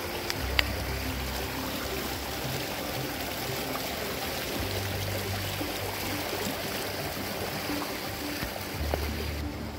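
A shallow, low-flowing creek in Grand Teton National Park at Spread Creek, giving a steady soft rush of water throughout, moderately near, with no talk over it.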